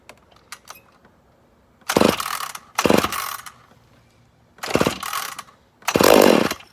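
A rebuilt McCulloch Super Pro 80 chainsaw is pull-started in four loud, rasping, rattling bursts of about half a second each, separated by quiet pauses, with a few faint clicks before the first pull.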